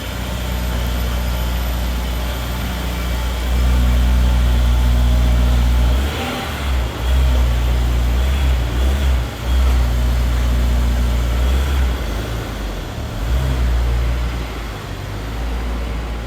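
A 2002 Honda S2000 engine running as the car is pulled out, a steady close mid-pitched hum that swells briefly and dips with small throttle changes, no talk.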